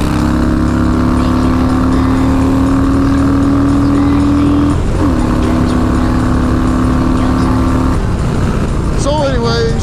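A vehicle engine runs steadily after a brake repair with new wheel bearings and a new caliper, a loud continuous drone with a pitch shift midway and rising revs near the end, under a voice.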